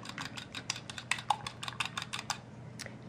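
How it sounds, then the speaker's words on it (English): A whisk clicks rapidly against a bowl while beating an egg for blueberry pancake batter, a quick, light, close rattle of tapping strokes that stops shortly before the end. "I'm going to give this egg another little whisk here"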